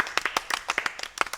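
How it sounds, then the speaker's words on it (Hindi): Children clap loudly on request, a quick uneven burst of about a dozen sharp, close claps over little more than a second, with no talking. "तो बच्चों एक बार जोरदार तालियां बजा दो"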